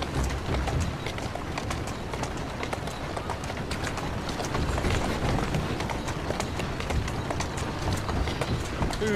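Hooves of a horse in Assassin's Creed Syndicate, Victorian London, a continuous fast clattering gallop with a rolling background rumble, steady and moderately loud.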